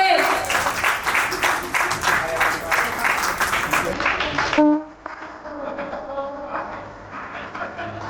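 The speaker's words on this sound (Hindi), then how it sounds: "तालियां बजती रहनी चाहिए" Clapping from guests at a 75th birthday celebration, rhythmic and fairly close for about five seconds, then cutting off abruptly into quieter background noise with people talking.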